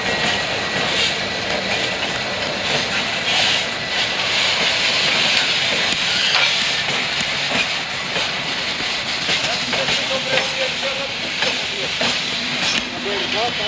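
A steam locomotive rumbles steadily past on rails with a loud, continuous roar and clatter, broadband noise filling the whole stretch without pause.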